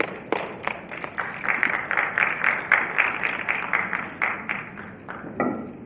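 An audience at an anti-corruption forum applauds after a speech, a dense continuous patter of many hands clapping at moderate distance, easing off near the end.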